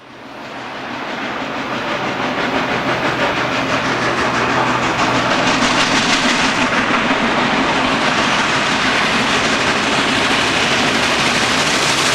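Union Pacific 4014 Big Boy steam locomotive rumbles steadily past at close range on the former Southern Pacific Sunset Route, a continuous heavy roar with rhythmic chuffing and clattering wheels, loud throughout with no voices.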